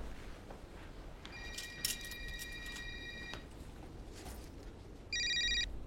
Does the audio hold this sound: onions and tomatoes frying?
no